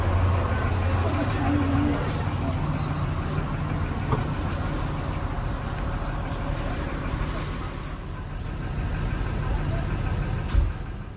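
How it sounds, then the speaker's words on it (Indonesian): Front-engine sleeper bus with its diesel engine idling in a low, steady rumble, heard from inside the cabin as a continuous drone with faint background voices. "Wah, mesin depan."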